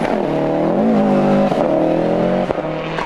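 A rally car at the 2003 Lurgan Park Rally has anti-lag trouble, its engine loud and close as it holds a high, wavering tone that dips and rises, broken by a couple of sharp cracks.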